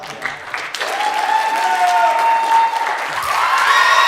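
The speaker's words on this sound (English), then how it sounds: "vote by round of applause" An improv comedy audience bursts into loud, sustained applause and cheering, clapping building quickly and holding strong, with scattered whoops and a few voices rising above the crowd.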